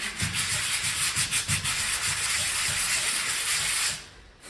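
Sandpaper rubs rapidly back and forth against a heat-warped aluminium part of a 2013 Honda PCX 125 engine top end, a loud rhythmic scratching hiss that stops abruptly near the end.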